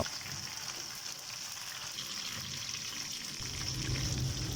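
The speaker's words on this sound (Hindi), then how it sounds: "हम इसी ऑयल में इसे फ्राई करेंगे।" Chicken tikka frying in a small amount of oil over a low flame, giving a steady, soft, even sizzle like light rain, close but quiet throughout, with no voices.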